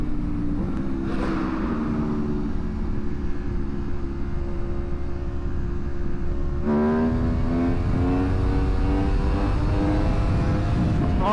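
A Ferrari engine at a barbecue car meet hums at idle and then revs up and climbs in pitch, loud and close, with a second rising pull near the end.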